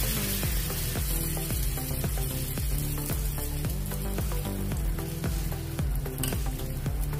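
Cabbage stuffing fries in oil in a pan with a steady, close sizzle, and repeated scraping and tapping of a spatula against the pan runs through it in an uneven rhythm.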